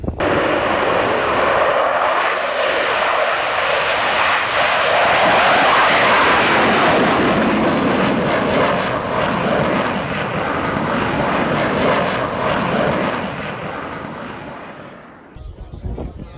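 Military jets at Schleswig-Jagel air base during the Air Defender 23 exercise climb out in afterburner, a loud, sustained, close roar that holds steady for about fourteen seconds before fading away.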